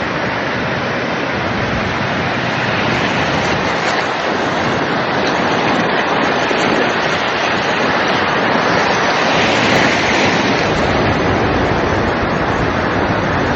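Surf of the Gulf rolling in: a continuous, loud, broadband wash of waves with no distinct breaks and no voices.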